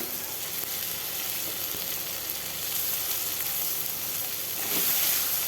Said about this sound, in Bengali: টমেটোটা যেন ভালো করে ভাজা হয়